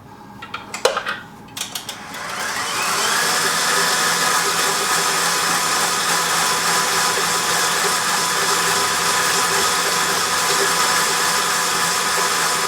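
A stand mixer fitted with a whisk attachment starts up after a few metallic clinks of the bowl and attachment, then runs at a loud, steady whir while whipping chocolate buttercream.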